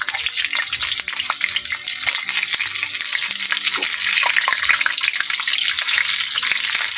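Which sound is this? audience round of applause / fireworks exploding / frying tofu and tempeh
frying tofu and tempeh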